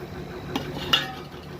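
A filling of ground peanuts and chilli stirred with a utensil, giving two sharp metallic clinks against the bowl over a soft, quiet scraping, close by and with no speech.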